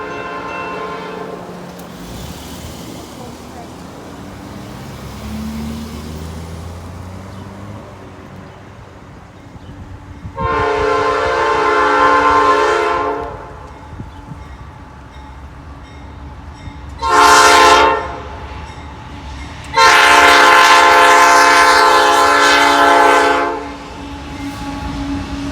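A big freight grain train rolls past a railroad crossing, its horn blaring loudly in several bursts over the steady rumble and clatter of the passing cars.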